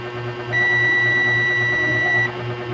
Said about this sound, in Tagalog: Kailangan natin sa continuity, sa buzzer.